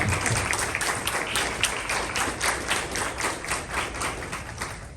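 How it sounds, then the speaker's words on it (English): A crowd applauds steadily for about five seconds, many hands clapping in a dense, even patter without voices over it. "Let's give them a little round of applause."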